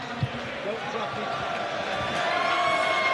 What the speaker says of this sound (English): lots of cheers from the crowd